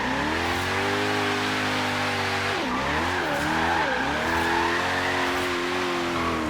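A 1500 hp Koenigsegg Regera in Forza Horizon 3 drifts sideways with a loud, steady high-revving engine drone, the pitch dipping and wavering while tires squeal, heard alone and close.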